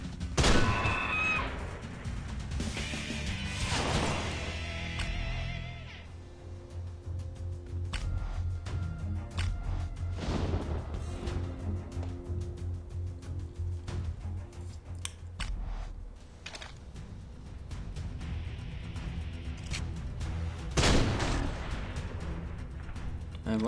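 Gunfire in the hunting video game Deer Hunter 2018, several sharp shots spaced through the clip at irregular intervals over a steady game backdrop of ambient sound and music.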